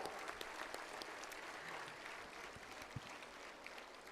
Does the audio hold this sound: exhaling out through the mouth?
no